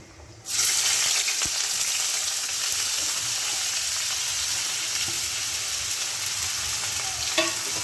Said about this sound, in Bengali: এবার আমি এখানে তিনটে মিডিয়াম সাইজ পেঁয়াজ কুচিয়ে নিয়েছি পেঁয়াজগুলো দিয়ে দেবো